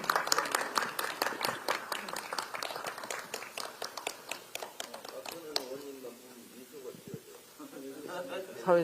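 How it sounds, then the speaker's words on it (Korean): An audience at a political event for lawmakers claps, loud and dense at first and then thinning out, before a voice begins speaking. "큰 박수 부탁드리겠습니다"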